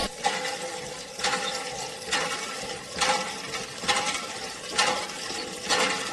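A government hand pump beside a primary school in a Birbhum village, Bengal, is worked in steady strokes. Each stroke brings a rhythmic squeak and clank with gushing water, close by, with no speech.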